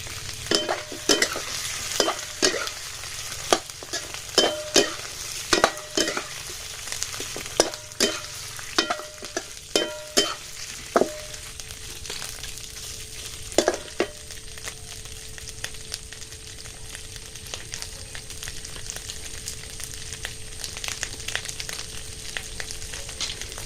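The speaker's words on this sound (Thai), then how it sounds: "เราใส่ใส่ปลาเลยนะครับผมใส่ปลาไปผัด" Fish stir-fried in sizzling Thai curry paste, for a snakehead and climbing perch curry, with a spatula clacking rapidly against the pan at first, then slowing to occasional scrapes over a continuous sizzle.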